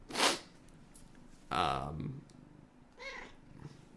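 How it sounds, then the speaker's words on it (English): A cat sits right at the microphone, purring and letting out short vocal bursts, close and fairly quiet, separated by brief pauses. "sorry, that's my cat. She's sitting at the microphone."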